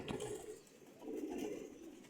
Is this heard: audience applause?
no